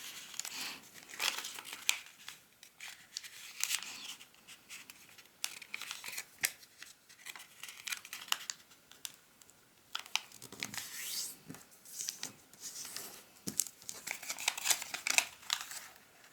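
Paper for an origami snowman is creased and folded, with continuous soft crinkling and rustling broken by sharper crackles throughout, close and fairly quiet, with no talking.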